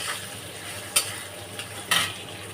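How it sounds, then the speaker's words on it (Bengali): Moong dal frying in oil in a pan gives a soft, close sizzle, broken by two or three brief clicks of a stirring spoon. "দেখো বন্ধুরা মুগ ডালটা লাল লাল করে ভাজা হয়ে গেছে"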